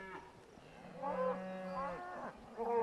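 Cattle on open pasture moo in several drawn-out calls, one low bellow following another with short pauses, fairly close and clear with no talking.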